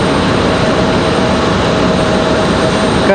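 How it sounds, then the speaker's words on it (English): FedEx ATR turboprop landing at Raleigh-Durham airport in stormy weather, a loud steady broadband engine and propeller roar holding constant throughout at close range. "FedEx ATR landing 2-3 left. So landing behind us."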